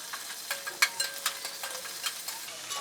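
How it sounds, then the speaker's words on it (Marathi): Freshly ground ginger-garlic paste dropped into hot oil for tempering sizzles quietly, with scattered crackling pops and spits over a soft hiss. "मी फक्त अद्रक लसणाची पेस्ट टाकते फोडणीला"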